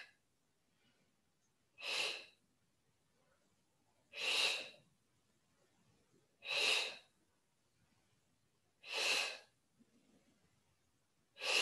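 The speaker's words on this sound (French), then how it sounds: "on va faire une inspire-expire assez rapide" Forceful breaths from a Pilates exercise come as five separate, evenly spaced bursts about two seconds apart. Each is a sharp, airy rush set against near silence.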